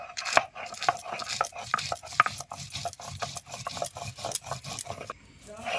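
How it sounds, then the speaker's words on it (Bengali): Green chilies being ground into paste for mustard parshe fish, heard as close, repeated scraping and rubbing strokes with uneven knocks, steady and rhythmic, with no talking. "কাঁচা লঙ্কাটা বেটে নেব"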